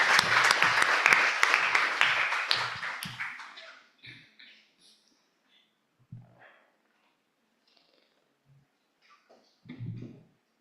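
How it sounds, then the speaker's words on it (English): An audience at an international guest lecture on city logistics claps loudly for about four seconds, the applause fading out into a quiet hall with scattered small noises and a brief murmur near the end. "Big applause for him."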